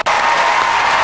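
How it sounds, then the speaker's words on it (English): Studio audience at a televised bingo game show breaks into loud, dense applause right after a brief silence, a close, sustained roar of clapping hands. "Round of applause."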